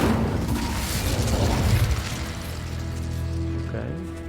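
Incendio fire spell cast in the Hogwarts Legacy video game, a loud roaring burst of flame and rumble that fades into a lower sustained hum, with a voice briefly audible.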